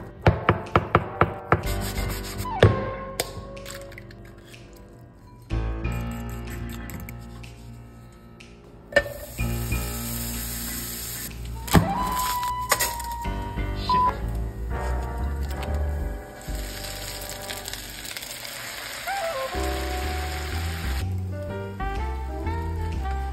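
Carbonara pasta being cooked in a home kitchen, with irregular scraping, rubbing and clinking of utensils against a pan, some sharper knocks and a brighter sizzling stretch in the middle, close and moderately quiet without speech.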